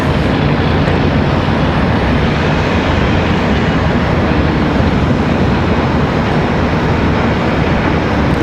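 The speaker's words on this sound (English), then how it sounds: "Republic Airways 4469, that was that last departure there." A Republic Airways airliner departs Raleigh-Durham airport, a broad, steady jet roar that stays loud and unbroken throughout, with no voices over it.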